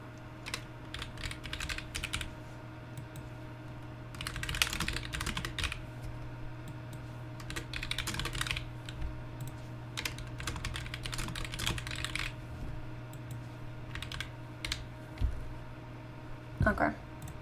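Rapid clicky typing on a computer keyboard comes in bursts during a livestream, close and fairly quiet over a steady hum, with a person talking in between.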